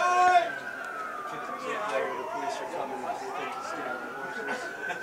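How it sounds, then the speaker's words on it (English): A wailing emergency siren sweeps up and down in the distance, under a chattering college baseball crowd and nearby talk. "And some sirens in the background."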